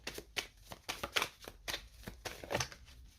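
Tarot cards being shuffled by hand give quiet, close riffling and flicking bursts in an uneven rhythm, with no talking.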